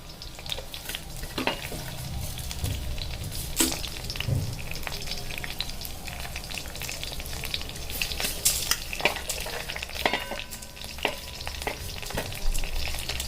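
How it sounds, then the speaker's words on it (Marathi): Coriander, sesame seeds and bay leaf are dry-roasted and stirred in a pan, giving a continuous soft sizzle with repeated scraping strokes of a spoon. "आता आपण हे छान प्रकारे असं हलवून घेऊया हे छान प्रकारे भाजलं पाहिजे"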